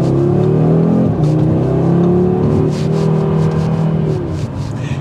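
A 2024 Audi RS3 sedan's engine revs loudly as it accelerates hard, its pitch climbing and dropping briefly between gear shifts.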